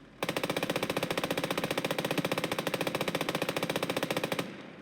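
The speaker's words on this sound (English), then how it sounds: "The main advantage is, it's got a 250 round belt Maxim, as you can see." A belt-fed Maxim machine gun mounted on an FT-17 tank fires in Call to Arms: Gates of Hell, one sustained, evenly paced burst of rapid shots lasting about four seconds, loud and close, then stopping abruptly.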